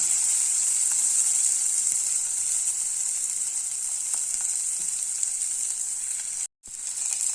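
Green chillies and ginger garlic paste sauté in oil in a pan, giving a steady bright hiss of sizzling that cuts out for a moment near the end, close and with no voices.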